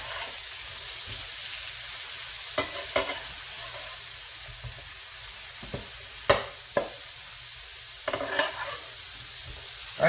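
Shrimp and sausage jambalaya stirred in an electric frying pan set to medium-high, a steady bright sizzle running throughout with occasional spoon scrapes and clacks, close-up and with no one talking.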